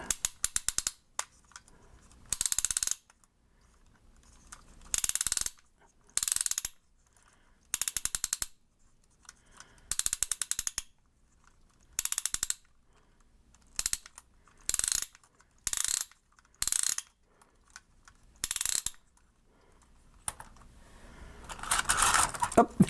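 A wind-up crank ratchets a steam locomotive model's spring in repeated short bursts of clicking, separated by brief silent pauses, close and crisp.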